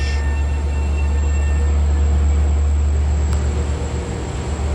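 A Long Island Rail Road train arriving at the busy Jamaica station hub during the evening rush, a loud steady low rumble of rolling cars with a faint high wheel squeal running throughout.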